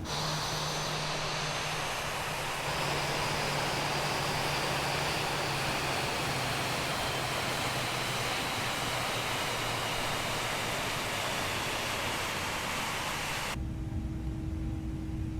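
Airbus A320 engine 1 spooling down in Microsoft Flight Simulator, a steady broad jet whine and rumble holding for most of the stretch before abruptly cutting to a quieter hum.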